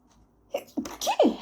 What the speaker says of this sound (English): going to sneeze. Am I going to sneeze?